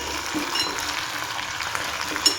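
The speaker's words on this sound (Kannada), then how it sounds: "ಈಗ ಒಂದು 10 ನಿಮಿಷ ಎಣ್ಣೆಯಾಗ ಫ್ರೈ ಆಗಲಿ." Brinjals frying in hot oil in a pan, a steady bright sizzle with faint occasional stirring and a small clink near the end, no voices.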